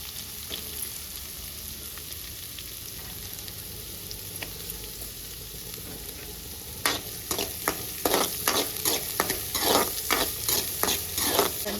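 Thinly sliced onions frying in a pan, a soft steady sizzle that swells into louder, rapid stirring and scraping strokes in the second half, close up, no talk.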